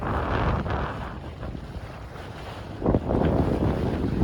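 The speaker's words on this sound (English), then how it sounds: "So we're now motoring in the last few nautical miles." A sailing yacht under engine power on open water off Thailand, its steady low hum mixed with wind buffeting the microphone and water rushing past the hull, with a louder surge of spray near the end.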